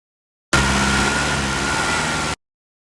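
Mahindra Bolero pickup engine running steadily just after starting, a close, constant mechanical drone with a faint whine that holds even for about two seconds, then cuts off abruptly, with no talking.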